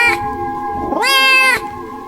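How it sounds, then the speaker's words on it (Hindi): A cat screeching loudly as a horror story sound effect, two sharp, piercing yowls close up, the second long and rising, with no talk over them. "तभी एक बिल्ली की जोरदार चीख मेरी चारपाई के ऐन नीचे से आई"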